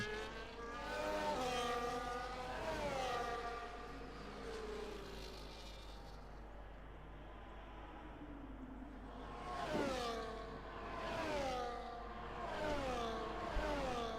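Race cars lap a track in a racing video game set at Belgium, engines whining as they pass in repeated rising and falling sweeps, fading to a quiet gap before more cars rush by.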